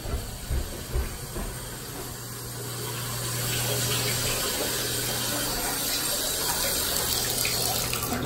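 A sink tap in a house runs water steadily, a close, full rushing hiss that swells louder partway through and carries on without pause.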